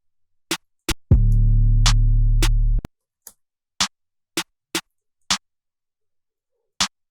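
Sharp percussive snaps punctuate the silence sparsely, a snare layered with a clap in a beat, with a deep sustained bass tone underneath for a moment; each hit is bright, layered and cutting.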